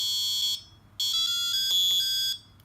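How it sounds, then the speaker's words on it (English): A microcontroller wake-up alarm beeps in loud, high-pitched electronic bursts, a long tone, a pause, then a longer sequence of stepped pulsing beeps before stopping. "if I press the center button again, it will clear the alarm"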